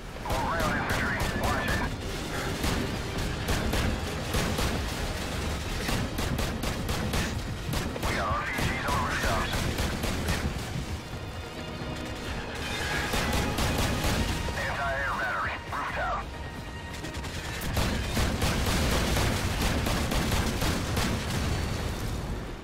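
Rapid gunfire and blasts from the video game Modern Warfare, with RPG rockets in a battle mission, crackle loudly and almost without pause, with heavier bursts recurring throughout.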